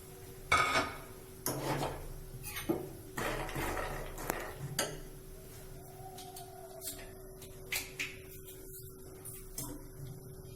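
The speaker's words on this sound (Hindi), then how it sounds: "मैं यहाँ पर पैन चढ़ा देती हूँ और फिर मैं ये पूरा चना भीगा हुआ डाल देती हूँ।" Soaked whole chickpeas tipped into a pan on the stove for a chana salad, a few clattering metal knocks and rattles early on, then quieter scattered clinks and a soft low hiss.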